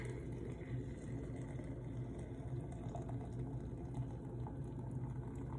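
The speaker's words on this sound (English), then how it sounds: "So now I'll add the hot water." Hot water poured from a kettle into a cup over a loose herbal blend, a faint, steady rushing stream under quiet room tone, continuous and unbroken with no speech.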